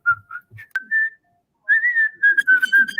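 Melodic whistling from a recording, a clear tune of sustained and stepped notes with a short pause partway through, loud and alone with no talking.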